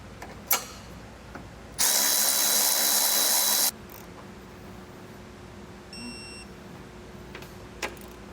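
Power tool snugging hitch bolts on a 2023 Audi Q3 during a hidden receiver hitch install, one loud steady whir lasting about two seconds, followed by quieter clicks and a few faint beeps.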